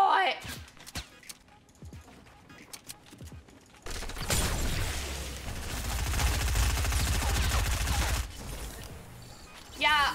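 Fortnite gunfire: a few sharp isolated shots early, then a sustained dense burst of rapid fire for several seconds that cuts off abruptly, with game clatter around it.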